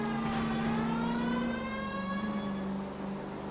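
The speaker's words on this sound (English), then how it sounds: "And turn that siren off." Police car siren wailing in the 1940s-era video game LA Noire, a rising and falling tone heard close over engine rumble, with no speech.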